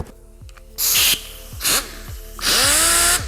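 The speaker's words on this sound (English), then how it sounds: "let's get everything set up and get to sanding on the car" A dual-action sander on a Porsche Panamera body whirs in loud bursts, starting and stopping three times, with a hissing grind against the panel between quieter mechanical pauses.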